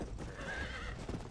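Horse in the video game Red Dead Redemption, Undead Nightmare, lets out a faint whinny while hooves clip-clop beneath it, quiet and brief with no talking.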